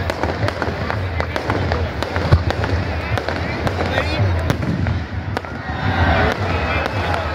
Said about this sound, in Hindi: ये देखिए आतिशबाजी का मुजाहिर आप देख सकते हैं यहाँ पे।